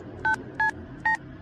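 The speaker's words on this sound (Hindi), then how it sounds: "पंडित को फोन लगाता हूँ।" Three short touch-tone beeps from a phone keypad being dialed, evenly spaced and clear against a quiet background.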